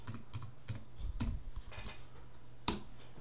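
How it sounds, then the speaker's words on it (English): Password being typed on a computer keyboard during a software install on Ubuntu, a quick run of light, irregular key clicks with one sharper press near the end, close and fairly quiet. "Add in the password, press enter"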